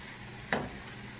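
Thai-style sweet and spicy pork stir-fry sizzles in a pan as it cooks down, with one short, close burst of frying hiss rising briefly above a low, steady kitchen background.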